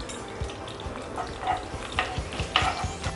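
Red and green chilies and curry leaves sizzling in hot oil on high flame, a bright crackling fry with scattered pops and stirring, close and steady.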